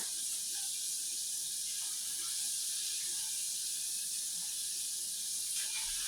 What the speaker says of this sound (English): I'm just finishing up frying some chicken right here.